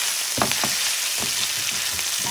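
Onions and beef frying in a pan until caramelized and dark, a steady sizzle broken by several short scraping stirs, close and moderately loud with no talking.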